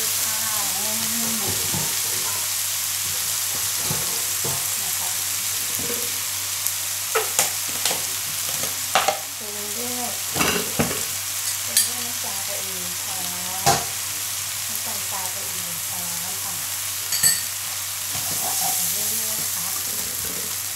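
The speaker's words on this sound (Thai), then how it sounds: "แล้วก็ผัดผักให้สุกนะคะ" Cabbage and vegetables are stir-fried in a pan after fresh shrimp have been cooked and set aside. A steady loud sizzle runs beneath scattered clanks of the utensil against the pan, with a faint voice now and then.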